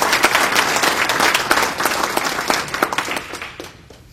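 Audience applause for a college basketball coach just named NAIA Coach of the Year, a dense, steady wash of many clapping hands filling the room, tapering off toward the end.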